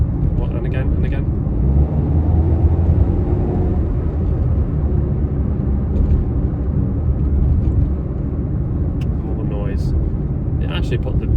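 Toyota iQ city car's engine revving hard under acceleration while driving through Liverpool, a loud continuous drone heard from inside the cabin, with road rumble and someone talking over it.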